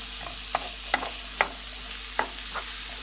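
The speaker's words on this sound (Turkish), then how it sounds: "İçerisine küçük küçük doğradığımız soğanlarımızı ilave edip pembeleşene kadar kavuralım." Chopped onions sizzle steadily in olive oil in a hot pan, with a few sharp clicks and scrapes from stirring at irregular intervals.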